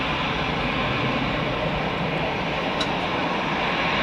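A Serbian airliner taking off at Zurich Airport, a loud continuous broadband engine roar that holds steady throughout, heard alone without talking.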